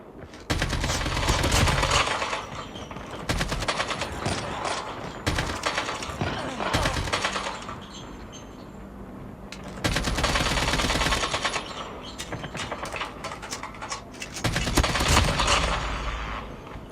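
Gunfire in a mobile shooter game played on a phone, including a sniper rifle: loud clustered bursts of shots separated by quieter stretches, with a few single sharp reports standing out.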